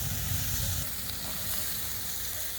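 Grilled potatoes are tossed in a hot pan with herbs, balsamic vinegar and chopped coriander, a dense, steady sizzle with scraping stir movements near the start, close and loud with no talking.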